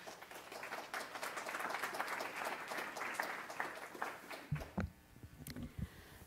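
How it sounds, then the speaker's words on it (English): An audience at an evening history talk applauds in a dense, sustained round of clapping that fades after about four seconds, leaving a few scattered claps and faint room noise. "So big round of applause."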